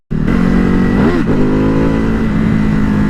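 A Ducati motorcycle engine revs loud and close, a sustained growl with one quick blip of the throttle partway through before it settles back to a steady drone.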